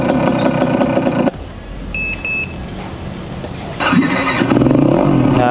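Fiido electric bike's under-seat sound module set to imitate a Vespa scooter exhaust: a loud, steady synthetic engine drone, broken by a quieter stretch with a few electronic beeps as the mode changes, then resuming strongly.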